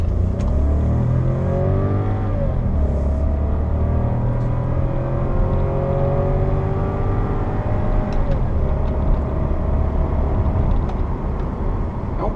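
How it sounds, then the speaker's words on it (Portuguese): A 2020 Volkswagen T-Cross Comfortline compact SUV accelerates, heard from inside. The engine note is steady and rising, climbs in pitch, drops back at a gear change and then builds again over a constant rumble. "Bom, vamos dar uma aceleradinha aqui."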